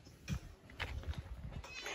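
A 13-year-old pet cat gives a few short, faint meows in a quiet home, spaced about half a second apart with no talking.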